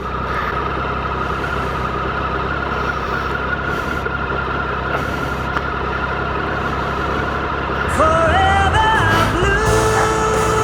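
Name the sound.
motorcycle engines idling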